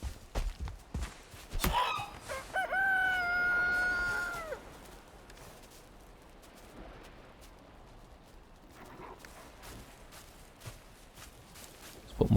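Chickens in the video game Valheim cluck and a rooster crows in a rising, drawn-out call near the start, followed by quieter scattered clucks and soft footstep-like sounds on a faint background.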